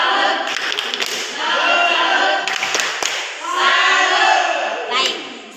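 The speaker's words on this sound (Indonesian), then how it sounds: "tepuk salut" Students in a classroom clap in loud rhythmic bursts, a patterned group clap with shouts and voices throughout, pausing briefly before a final flurry.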